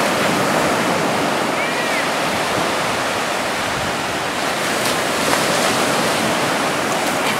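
Ocean surf on a beach, a steady, loud wash of breaking waves mixed with wind buffeting the microphone, continuous from start to finish with no pauses.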